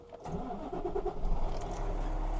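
A truck engine cranks and catches after a key turn, with the clutch held down and the gearbox in neutral, then settles into a steady low rumble close by.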